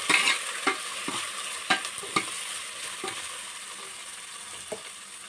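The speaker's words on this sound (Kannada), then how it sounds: "ಹಾಗೆ ಮೆಂತ್ಯ ಕೂಡ ಆ್ಯಡ್ ಮಾಡ್ತಾ ಇದ್ದೀನಿ. ಇವಾಗ ಫ್ರೈ ಆಗಲಿ." Fenugreek seeds fry in hot oil with a soft continuous sizzle, punctuated by a handful of sharp spoon scrapes and taps against the pan at irregular intervals.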